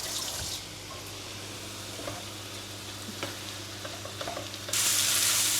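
Salted, peppered mushrooms frying in a pan while being stirred: a close, steady sizzle with scattered scraping clicks, ending in a louder burst of hissing spatter.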